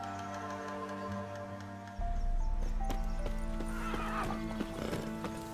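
Hooves of Roach, Geralt's horse in The Witcher 3, clip-clop in a steady game rhythm with a whinny, over droning game music that grows louder and fuller partway through.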